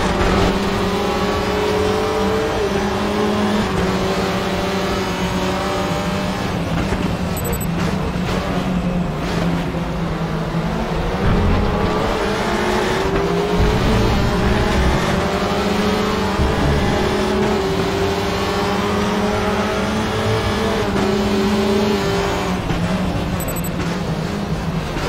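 WTCR touring race cars battle on the Zolder circuit, several engines roaring loudly and continuously, revving and shifting as they pass close by, with no talk over the sustained drone.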